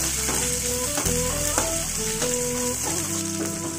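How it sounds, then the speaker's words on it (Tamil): Finely chopped onions fry in oil in a pan for a South Indian snake gourd kootu, giving a loud, continuous sizzle with stirring scrapes and soft clinks, and no talk. "வெங்காயம் நல்லா பொன்னிறமாக வதங்கட்டும்"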